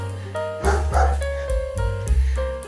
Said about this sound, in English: along with someone's dog.